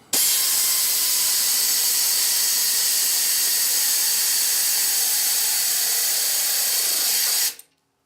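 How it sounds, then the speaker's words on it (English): A pneumatic or power tool spins a 6mm socket on the bottom catalytic converter bolt, one steady loud whirring hiss for about seven seconds before stopping abruptly, with no talking. "Now we're going to go ahead and tighten up this bottom bolt that holds the catalytic converter in place."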